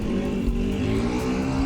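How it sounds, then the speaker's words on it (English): Engine revving in the theme park game OpenRCT2, a steady droning motor tone with strong low harmonics held throughout, no talk. "sorry to disturb your revving"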